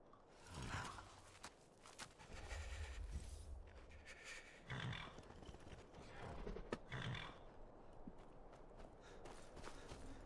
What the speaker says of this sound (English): Our good old dwarven horse.